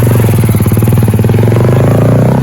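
A motocross motorcycle engine runs loud and close, holding a steady, throbbing idle with a rapid regular pulse and a slight rise in pitch, alone without talk.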